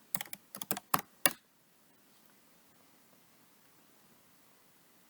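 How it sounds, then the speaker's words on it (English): A search term is typed on a computer keyboard, a short run of close, crisp keystrokes in quick clusters lasting about a second, then near silence. "So we're going to type in here recurrence."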